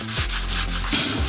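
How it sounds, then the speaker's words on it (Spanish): Sandpaper rubbing across a wood floor along the grain during repair of marks, a close, continuous scratchy back-and-forth sanding with a few stroke changes, no talking. "deben de lijar conforme va la madera"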